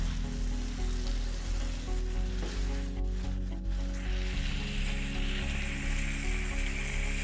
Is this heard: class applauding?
no